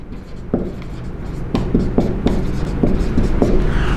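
Chalk or marker scratches across a classroom board in short, rhythmic strokes, heard close and clear over a low background hum.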